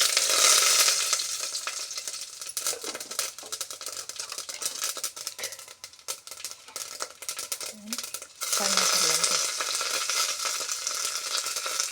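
Steady frying in hot oil for a sambar tempering, a dense continuous sizzle that surges louder near the start and again toward the end, with a few faint clinks of utensils in the pan.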